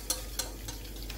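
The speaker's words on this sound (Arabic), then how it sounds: "هنا البنات غادي نخلط داك البيض اللي درتو" Eggs being mixed in a bowl for an easy chocolate cake, giving a few quick, light clinking strokes at an even rhythm over a soft background, brief and fairly faint.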